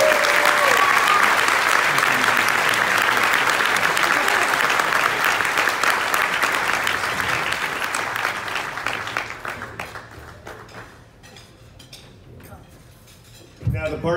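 Sustained audience applause at a music convention in New Orleans fills the room loudly at first, then thins into scattered claps and fades toward the end before a brief final burst.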